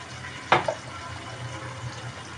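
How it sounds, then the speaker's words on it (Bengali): Water is poured into a pan of browned onions frying on the stove. A brief, sharp splash and hiss is followed by a steady low sizzle that continues close up, and no one speaks. "এখন আমি একটু পানি ছেড়ে দিলাম"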